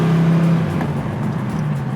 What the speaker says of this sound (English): So make no mistake, this is a very fast car.